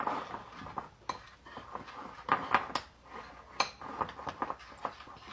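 A spoon stirring nut-powder dough in a bowl for a cashew pistachio roll, producing irregular scraping and clinking against the bowl at close range.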